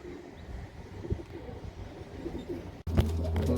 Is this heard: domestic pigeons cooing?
yes